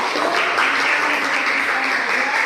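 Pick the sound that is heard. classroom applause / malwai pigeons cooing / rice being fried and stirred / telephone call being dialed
classroom applause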